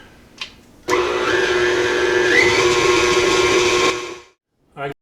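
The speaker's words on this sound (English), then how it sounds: "I'm going to mix this all together on a medium speed" An electric stand mixer runs at medium speed through cookie dough for about three seconds, a loud steady motor whir with a slight pitch shift, starting and stopping abruptly between brief clicks.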